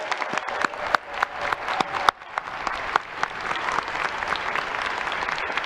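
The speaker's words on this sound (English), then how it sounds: "Let's give them one more round of applause" A large audience at a university winter commencement ceremony applauds steadily and loudly, a dense wash of many hands with sharp individual claps standing out throughout.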